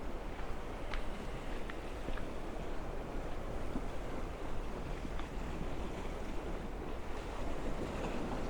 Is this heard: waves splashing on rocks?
yes